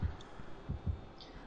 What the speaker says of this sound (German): Herzschlag ist laut.